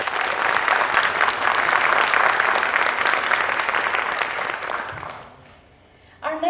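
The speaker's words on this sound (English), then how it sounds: "A round of applause for our nightingale Shanti Garu." An audience at a Bharatanatyam arangetram dance recital applauds the singer, dense steady clapping that holds for about five seconds, then fades out before a voice begins speaking.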